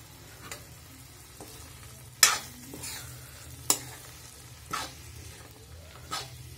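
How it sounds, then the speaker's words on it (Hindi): Potatoes and badi fry in spice masala for aloo badi sabzi, a low steady sizzle underneath while a spoon scrapes the pan in four or five sharp, evenly spaced strokes; no voices. "मसाले के साथ आलू और बड़ी को अच्छी तरह से भुनेंगे।"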